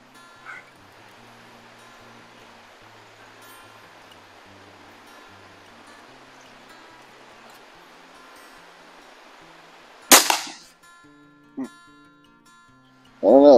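A Hatsan Model 95 air rifle fires a single sharp, loud report at 25 yards, followed by a brief softer knock and then another loud burst at the end, after long quiet.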